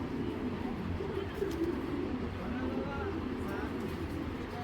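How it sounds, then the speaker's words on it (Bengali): High-flying Laldumba pigeons cooing in low, rolling murmurs, close and steady, under a person talking over them. "লালদুম্বা, এগুলা সর্বোচ্চ ফ্লাইয়ের কবুতর।"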